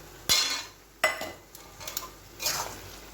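Banana flower ghonto being stirred in a pan with ghee and ground cardamom, a few distinct scraping strokes of a spoon against the metal over a soft, faint sizzle, with no talking.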